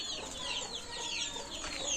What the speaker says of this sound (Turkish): Siz tavukları gördünüz mü? Bak burada. Bak orada da var.